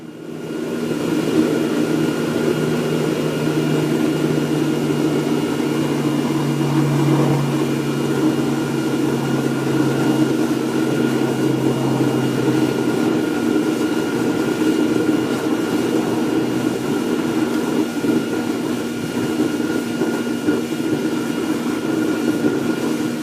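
A forced-air blower roars steadily on an uninsulated steel-can aluminum melting furnace, a loud continuous rushing drone with a low hum that holds without a break, no voices over it.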